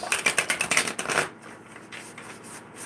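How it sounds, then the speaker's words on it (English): A deck of tarot cards, bent from hard shuffling, riffled in a quick run of crisp flutters for just over a second, then quiet room tone. "I'm trying to shuffle them the other way so they'll stop being like that"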